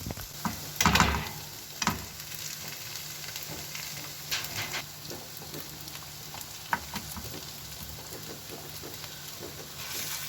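Bread stuffing with harissa and cheese sizzles steadily in a pan while being stirred, with occasional louder scraping strokes against the hissing frying.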